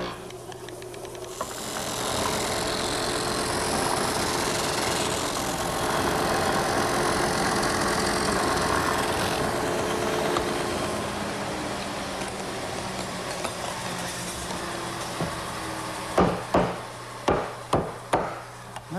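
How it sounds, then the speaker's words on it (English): A steady mechanical whir of a woodworking sanding center shaping a wooden mortise runs for most of the stretch, then cuts off, followed by a few sharp knocks of wood. "I'm going to use my sanding center"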